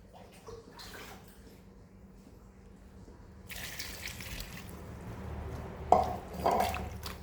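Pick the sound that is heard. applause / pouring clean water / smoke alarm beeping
pouring clean water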